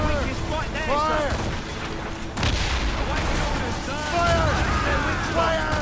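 Ship cannons boom during a naval battle in Assassin's Creed Rogue, a heavy volley cutting through dense, continuous battle noise, with voices heard over the action.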